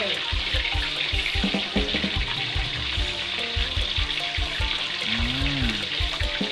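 Fish, a snakehead, hisses and crackles as it fries in hot oil, making a loud, steady, close sizzle with intermittent bubbling pops and a brief voice underneath.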